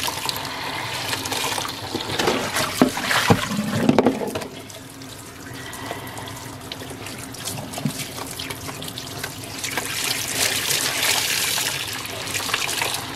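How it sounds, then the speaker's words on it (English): Cold tap water runs steadily into a sink while excess dye is rinsed out of tie-dyed fabric, with splashing that surges louder at the start and again near the end. "we're going to rinse it out because a lot of dye was released out of the fabric"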